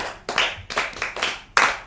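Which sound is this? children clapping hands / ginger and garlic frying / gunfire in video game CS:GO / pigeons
children clapping hands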